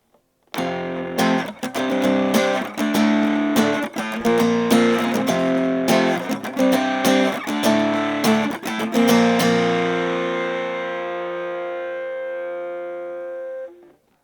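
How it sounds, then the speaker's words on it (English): Taylor T5C2 Custom Koa electric guitar with heavy distortion strums a rhythmic riff, then lets the final chord ring out and slowly fade, heard alone and close. "now we're going to do for like a more heavy distortion"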